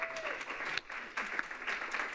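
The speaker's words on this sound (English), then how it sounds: "let's give him one more round of applause" An audience at a business conference session claps in a brief, dense burst of applause that fills the room at moderate volume.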